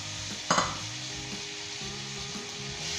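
Tomatoes fry in a pan for a mutton curry, a constant hiss of sizzling oil with one sharp stir or clatter early on, then steady frying noise.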